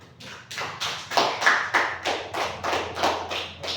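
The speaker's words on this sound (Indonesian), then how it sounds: "Tepuk tangan untuk." A classroom of students claps in unison for a student group, about ten evenly spaced, sharp claps in a steady rhythm, fairly close, with no talk over them.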